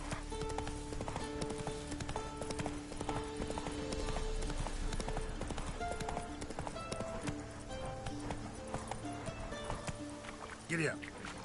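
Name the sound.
horse hooves galloping in video game The Witcher 3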